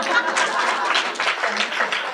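Audience applause at a lecture hall presentation, a dense, steady patter of many hands clapping together throughout the short span.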